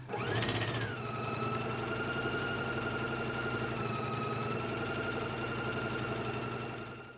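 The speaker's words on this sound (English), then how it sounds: "We're going to do a 5/8 inch stitch all the way along this edge. Let's go ahead and stitch that now." A sewing machine runs continuously, stitching a 5/8 inch seam along the edge of a collar, with a steady motor hum and needle drone held at an even level throughout.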